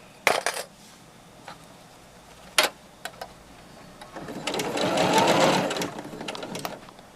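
A sewing machine stitches over a fabric face mask, with a few sharp clicks and taps first, then a sustained whirring run of stitching building and fading near the end, close up and with no talk.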